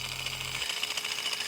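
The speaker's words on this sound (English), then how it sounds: "they are actually buttons that will turn on this jackhammer." A toy jackhammer on a Huina 1580 RC excavator buzzes steadily and close, a continuous bright rattling whir with a low motor hum that drops away partway through.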